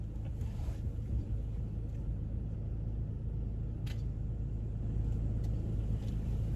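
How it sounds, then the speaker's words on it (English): A PVC pipe stuck underneath a moving car drags along the road, giving a steady low scraping rumble under the engine and road noise throughout, with a couple of brief higher scrapes. "There was a PVC pipe stuck underneath the car."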